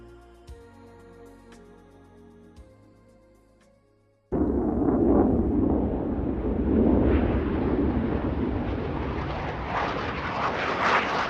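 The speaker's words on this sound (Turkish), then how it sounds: "Uçaklar." A quiet tonal hum gives way abruptly to a loud, roaring airplane engine that stays strong and rushing, its pitch gradually rising as it passes close.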